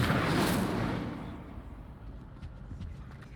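An Incendio fire spell cast in the video game Hogwarts Legacy, a loud whooshing burst of flame that roars up at once and then fades into a lingering rumble.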